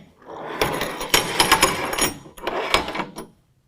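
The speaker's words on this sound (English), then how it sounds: "just slide that tap plate into the deck rail system" A tap plate scraping and sliding along the deck rail of a Gator SFX tri-fold tonneau cover on a 2020 Toyota Tundra, heard up close as a rough metallic rasp broken by a few sharp knocks and clicks.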